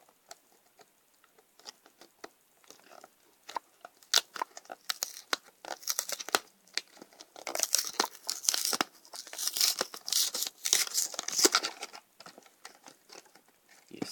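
Packaging for a Yu-Gi-Oh Saga of Blue-Eyes White Dragon structure deck is torn and crinkled open up close, with irregular bursts of ripping plastic and rustling cardboard that build in density, no talking.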